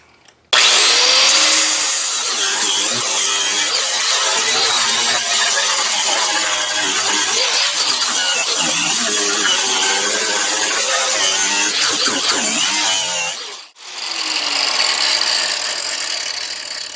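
A flap sander fitted with 60 grit sandpaper grinds into copper beech wood: a loud, continuous whirring abrasion that starts abruptly, runs steadily, cuts out briefly, then resumes.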